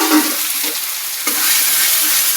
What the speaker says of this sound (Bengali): এবার একটু পেঁয়াজ কুচানো দিয়ে দেবো, দিয়ে নাড়াচাড়া করব।